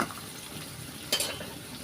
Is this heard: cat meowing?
no